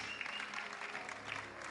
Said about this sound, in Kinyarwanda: Please bear with us and give a round of applause.